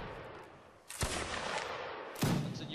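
Musket volleys crack in the Mount & Blade: Napoleonic Wars video game during a line battle, two sharp loud reports about a second apart over a low battlefield hiss.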